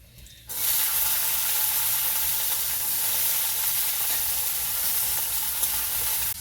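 Peas frying in a pan with ginger and green chilli, a loud continuous sizzle that starts abruptly and holds steady, with faint stirring underneath.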